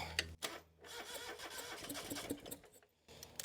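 A diesel engine on a John Deere 2653A mower cranks over with a steady mechanical churn, trying to fire after fuel bleeding, with brief pauses near the start and end.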